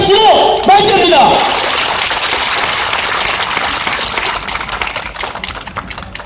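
Applause at an outdoor election rally for a county head candidate, with a crowd clapping loudly and steadily for several seconds after an amplified voice briefly speaks at the start.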